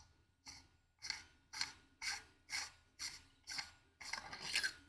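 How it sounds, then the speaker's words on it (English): Unscrewing the metal handle of a custom Wheel of Time Neopixel lightsaber with a Proffie board, a series of about eight short, evenly spaced raspy scraping twists, close and fairly quiet, ending in a longer grinding turn. "what you want to do to get to your chassis is just unscrew your handle."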